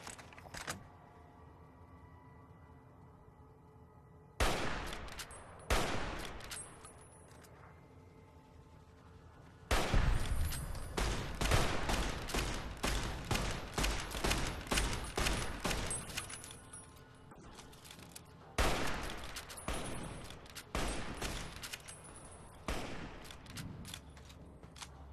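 Gunfire in the Fallout New Vegas video game: bursts of rapid shots in clusters, loud and close, separated by quieter stretches of ambient game background, with no talking.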